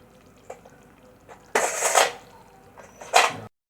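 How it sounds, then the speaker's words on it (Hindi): Chopped ginger, tomato and green chilli go into a frying pan for daal mash, giving a few soft clinks, then two louder bursts of clatter and a brief sizzle, close by with no talking. "अब इसमें चॉप अदरक, टमाटर और हरी मिर्च डालेंगे।"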